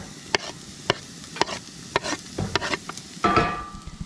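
Garlic sizzling in oil in a Dutch oven over a campfire, a steady fry under sharp, irregular clicks and scrapes of stirring, with a louder burst of sizzle near the end.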